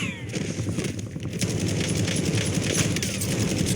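Gunfire in the Warzone video game, rapid cracking shots in a dense rattling stream, loud and continuous under noisy game sound with a voice faintly present.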